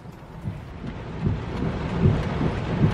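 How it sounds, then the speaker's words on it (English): Rain falls steadily during a wet outdoor stop, heard as a constant low rumble with gusty swells and muffled thuds, close to the microphone and with no voices. "Like the rain."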